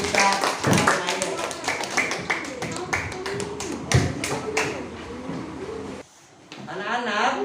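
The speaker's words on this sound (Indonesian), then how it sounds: "Kita beri tepuk tangan kepada taman kita ini yang sudah menceritakan tentang kisah tanah air." A classroom of students claps for a classmate in a quick, close burst of many hands with voices mixed in, stopping abruptly after about six seconds before a voice continues.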